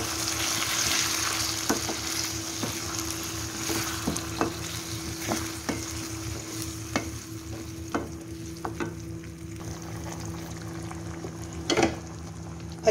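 Chicken and turnip fry in a pan with a tomato, ginger, garlic and green chili paste, giving a continuous close sizzle broken by scattered sharp clicks of stirring. No one speaks.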